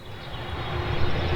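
A fixed-wing airplane flies close past a building in a film scene, a steady, loud broadband engine roar that swells slightly over its brief duration, with no talking.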